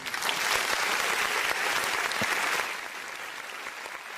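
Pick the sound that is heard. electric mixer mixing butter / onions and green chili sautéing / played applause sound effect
played applause sound effect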